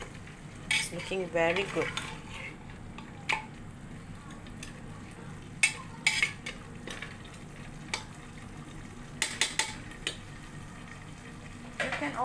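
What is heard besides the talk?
stirring mutton curry in a pot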